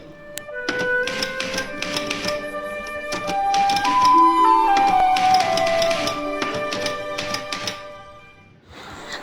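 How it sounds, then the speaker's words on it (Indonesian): Typewriter keys clack in quick irregular runs as the 1945 proclamation text is typed, close and crisp, over a soft background of music, ending with a brief pause. "Lalu diutuslah Saidi Melik oleh Soekarno untuk mengetik naskah proklamasi yang akan ia bawakan pada esok hari"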